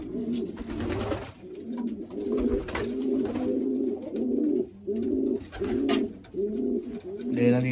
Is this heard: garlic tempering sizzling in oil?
no